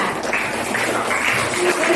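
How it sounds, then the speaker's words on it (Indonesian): Applause in a classroom, a brief burst of clapping from a group of students over a noisy room, with voices mixed in. "Tepuk tangan."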